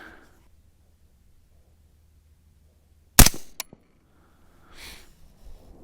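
Single sharp gunshot from a Uintah Precision UPR15 .223 Remington rifle at an outdoor range, one loud crack with a brief echoing tail after a quiet lead-in, followed by faint rustling.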